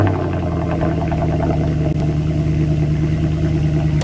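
A real AMG V8 swapped into a new Mercedes C63 idles with a deep, steady burble close by, a continuous low rumble with a slightly lumpy rhythm and no voices.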